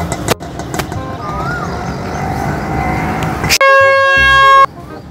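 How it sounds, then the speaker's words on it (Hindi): A car horn blares in one long, loud, steady honk that lasts about a second, close by. It follows several seconds of road and traffic noise, with a few sharp knocks early on. "हॉर्न बजाया यार, मैंने कोई रॉकेट लॉन्चर थोड़ी मार दिया।"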